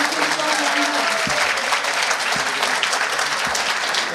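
Sustained audience applause after a talk, steady and dense throughout with no speech over it.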